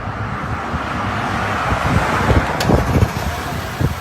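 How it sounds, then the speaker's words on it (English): An Audi Q8 engine starting up and idling after a remote start, a low steady rumble in the open with faint road noise around it. "Within 10 seconds the car is running."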